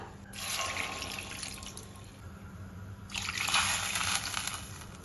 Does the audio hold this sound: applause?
no